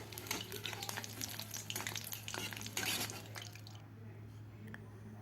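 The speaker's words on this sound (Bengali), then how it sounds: "লো টু মিডিয়াম ফ্লেমে এটিকে ভাজতে হবে, তাতে মুচমুচেও হবে এবং পুড়ে যাওয়ার ভয় থাকবে না" Pumpkin flower fritters fry in oil on a low-to-medium flame. A soft, bubbling sizzle comes with bursts of crackle and stirring, then quiets toward the end over a low hum.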